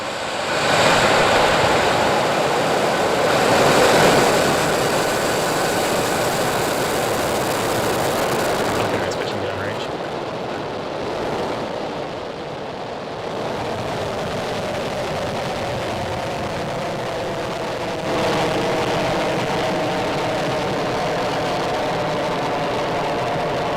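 SpaceX rocket engines igniting at a Starlink launch: a loud, sustained broadband roar that swells, dips briefly, then settles into a steady rumble with no voices over it.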